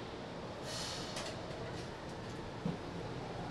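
Steady rumble and rattle inside a riding metro carriage on a commuter line, with a brief hiss partway through and a faint bump, moderately quiet and continuous with no talk.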